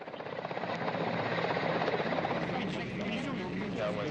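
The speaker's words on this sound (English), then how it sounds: "I can see some of the another Russian Mi-8 helicopter just now touching down" A Russian Mi-8 helicopter touches down at the Expedition 35 Soyuz crew landing site, its rotor roar loud and steady throughout, with voices talking under it.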